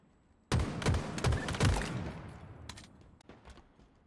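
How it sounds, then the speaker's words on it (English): Rapid bursts of gunfire in the video game Halo Infinite, a sudden loud volley of several shots in quick succession that trails off, then a few fainter shots at a distance. "Where did you just get shot from?"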